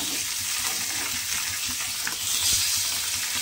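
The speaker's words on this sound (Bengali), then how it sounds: "এইবারে আমি এই তেলের মধ্যে দিয়ে দেব মাছগুলো। পাবদা মাছগুলো কিন্তু তেলের মধ্যে দিয়ে দিতে হবে।" Pabda fish fry in hot oil with a dense, even crackling hiss that swells slightly toward the end, with faint clatter underneath and no voices.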